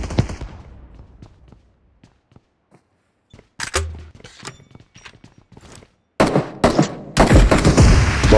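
Shotgun fire and other gunshots in the BGMI video game, with a few sharp isolated blasts early on, then dense loud bursts of gunfire near the end amid quiet stretches.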